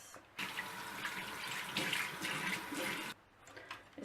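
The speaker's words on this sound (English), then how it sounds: "And then I need to wash my hands." Tap water runs steadily into a sink while hands are washed under it, a broad hiss starting abruptly and cutting off after about three seconds, with no talking.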